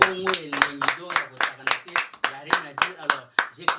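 Rhythmic hand clapping in a studio, steady beats about every quarter second, loud and close, with a voice speaking and singing over it throughout.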